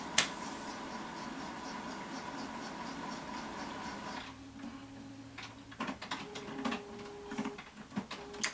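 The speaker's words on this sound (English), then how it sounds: "my printer's going off." A home printer runs with a steady mechanical whir, then switches to irregular clicks, ticks and short motor tones as it restarts, faint and fairly close.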